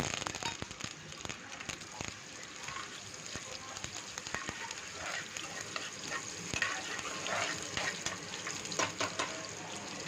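Onions frying in hot oil in a pan while being stirred, a steady close sizzle broken by frequent scraping clicks of the spoon, with faint talking in the background.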